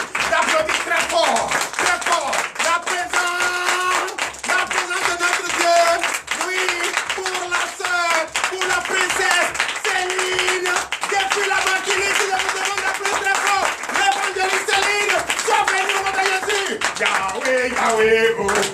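A congregation claps along in rhythm with a loud French-language church worship song, sustained group singing over steady beat-driven hand clapping throughout.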